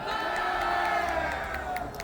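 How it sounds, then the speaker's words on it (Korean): Crowd at a political rally in Busan shouting and cheering together, a loud sustained roar of many voices with scattered whoops throughout. "다 같이 다 같이 함성 한번 지릅시다"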